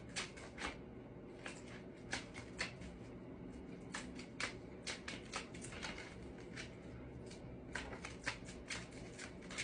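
Tarot cards being shuffled by hand at close range, a steady run of soft papery riffles and slaps with sharper flicks scattered throughout, quiet and without speech.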